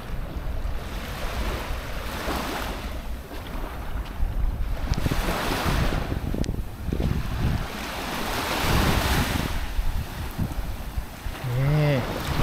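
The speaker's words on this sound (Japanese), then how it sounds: "この波の音が気持ちいい" Ocean waves wash steadily onto the sand at the Heda sandspit on Mihama Cape in West Izu, loud and close, with gusts of wind buffeting the microphone throughout.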